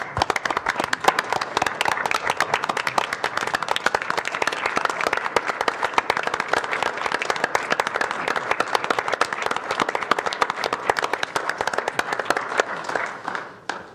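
Audience at a city council meeting claps steadily in appreciation for several seconds, a dense even patter of many hands filling the room before tapering off near the end.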